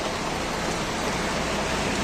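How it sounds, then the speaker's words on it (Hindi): Steady rain falls outside on a morning of continuous downpour. It makes a dense, even hiss that fills the whole stretch at moderate loudness, with no pauses or voices. "बाहर जो बारिश हो रही है, ये देखो गाइस, पूरी सुबह से बारिश चली है।"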